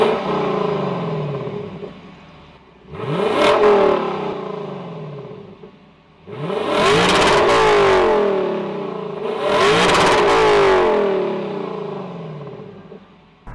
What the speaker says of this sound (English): there's nothing separating us from the exhaust pipe back there